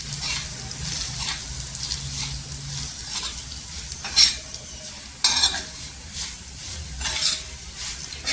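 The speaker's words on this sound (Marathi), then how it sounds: "इथे बघा मिरची छान अशी तेलावर फ्राय केलेली आहे" Garlic and green chilies fry with masala in hot oil, giving a continuous close sizzle. Metal spoon stirring and scraping against the pan comes in bursts, with a few sharper clanks.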